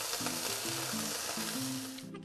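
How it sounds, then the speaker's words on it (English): A stir-fry sizzles and crackles loudly in a hot wok, a steady hiss of frying that briefly drops away at the end. "It's gonna sizzle and smell really good"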